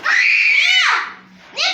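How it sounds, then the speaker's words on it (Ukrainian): Children shriek loudly and at length in a shrill, sliding scream at a sixth birthday party in an indoor kids' entertainment centre, and after a short lull another high scream starts up. "Та не кричіть."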